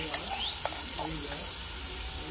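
Masala paste of ginger, garlic and coconut sizzles steadily in a curry pan as it is stirred, with a continuous close frying hiss and a few soft scrapes of the spoon against the pan.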